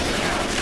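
Dense gunfire fills a Left 4 Dead 2 versus match, a short continuous burst of loud shots with no pause.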